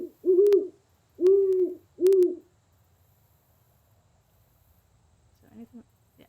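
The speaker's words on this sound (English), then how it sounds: "A large owl seems to be watching you." Three deep, resonant owl hoots in quick succession ring out from the Colossal Cave video game, followed by silence and a faint low call near the end.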